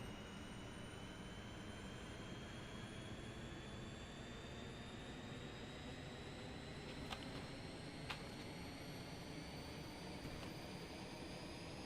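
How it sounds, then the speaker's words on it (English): Airliner jet engine spooling up in Microsoft Flight Simulator 2020, an A32NX, a steady rising whine and roar that holds throughout, with a few faint clicks partway through. "that beautiful sound of an engine spooling up"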